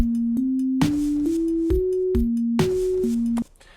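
A series of short synthesized tones in Ableton steps up and down in pitch in a steady rhythm, each struck with a percussive click.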